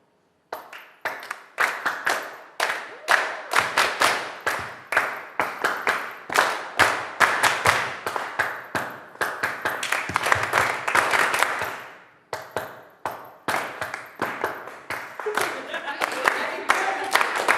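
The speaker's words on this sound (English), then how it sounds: "So I need everybody to like do a call and response clap type of thing," Rhythmic call-and-response clapping from an audience at a late-night open mic, sharp patterned bursts of hand claps repeating in short phrases with brief pauses between rounds, fairly close and lively.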